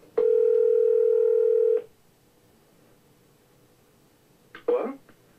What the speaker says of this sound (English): Right, Fisher, it's ringing.